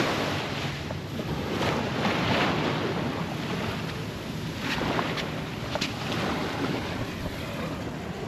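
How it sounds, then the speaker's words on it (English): Ocean waves wash steadily onto a beach in Monterey, California, with strong wind buffeting the microphone in a continuous, loud roar and no pauses or voices. "Here in Monterey, we have the beach."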